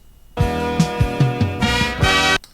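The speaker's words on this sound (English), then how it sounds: "That drum fill with the toms that goes doo doo doo doo." Sampled drum fill on toms within a dense music sample, several descending tom hits rolling over sustained tonal backing, loud and close, no talking.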